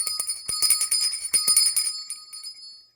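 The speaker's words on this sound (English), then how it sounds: "the bell has been rung." A bell rung in a car-building workshop where an AE86 body is being completed, giving a quick run of bright metallic strikes with a ringing tone that fades out, close and clear with no voices.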